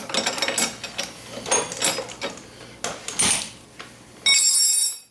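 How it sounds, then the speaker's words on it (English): A 7/8 wrench working a bolt while installing ice scratchers: close metallic clicking, ratcheting and clanks in irregular bursts, ending with a bright metallic ring. "Use the 7/8 wrench so it doesn't spin."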